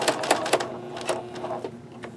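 A sewing machine stitches a denim notebook cover in a quick rattling run of sharp mechanical clicks, then slows into a few spaced taps, close and fairly loud with no talking.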